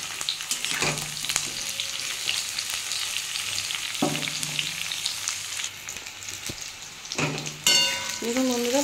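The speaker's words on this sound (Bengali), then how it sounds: "পটলটা ভালো করে ভেজে নেব" Pointed gourd frying in hot oil gives a steady, close sizzle with a few stirring scrapes and clicks, and a brief higher tone near the end.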